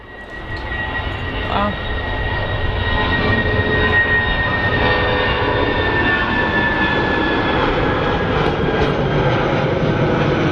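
An airliner taking off at Manchester Airport, a loud continuous engine roar with a whining tone swelling and holding steady, while a voice briefly exclaims over it.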